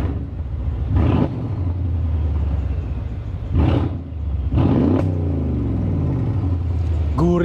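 Mercedes ML63 AMG with a 5.5-litre twin-turbo V8 revving, heard from outside the car: a deep rumbling idle broken by several sharp throttle blips, loud and close, with a voice speaking over it at times.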